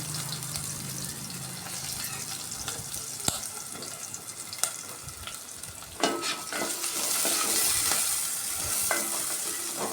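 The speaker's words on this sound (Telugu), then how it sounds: "ఆయిల్లో బాగా ఫ్రై అవనివ్వాలి ఉల్లిపాయ పచ్చిమిర్చి" Onions and green chillies frying in oil in a pan, a steady sizzle with occasional sharp spatula scrapes and stirring clicks, growing louder and brighter in the second half, with no talking.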